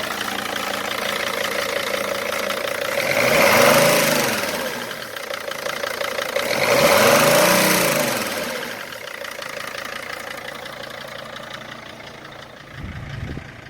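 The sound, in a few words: 5-cylinder car engine running with MAF sensor unplugged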